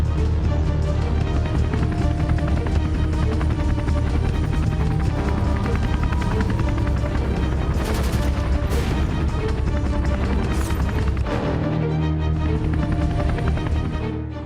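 An Indian Army multi-role Light Combat Helicopter flies with a dense, steady roar and thudding rotor beat, loud and continuous throughout, with a few sharp bursts cutting through near the middle.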